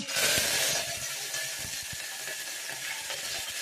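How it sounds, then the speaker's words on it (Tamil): Mustard seeds, cumin and curry leaves hit hot oil while sambar is being cooked, a loud crackling burst of sizzling that settles into steady frying hiss with scattered small pops, close and continuous. "எண்ணெய் நல்லா காஞ்ச உடனே கடுகு போட்டுக்கணும், சீரகம் போட்டுக்கணும், கருவேப்பிலை போட்டுக்கணும்"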